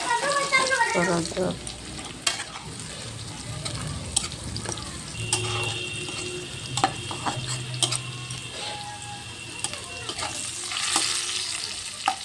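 Wild jungle-fowl meat is added to hot oil with deep-fried red onions and stirred, a steady sizzle with scraping stir strokes and occasional clinks running throughout at close range.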